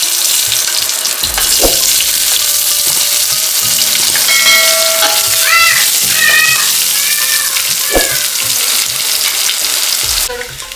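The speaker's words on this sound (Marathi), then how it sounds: "तेल छान गरम होऊन द्यायचं आहे आणि त्याच्यामध्ये खडे मसाले आपण घालणार आहोत" Bay leaf, black cardamom and star anise sizzle loudly in hot oil in a pan, a steady frying hiss with occasional stirring clanks, while a cat meows clearly several times over it; no one speaks.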